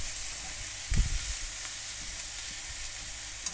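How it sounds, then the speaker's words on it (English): Chow mein noodles fry in a wok with a steady hiss and a brief low thump as they are tossed, the sizzle holding at an even level throughout. "Let it fry a couple of minutes."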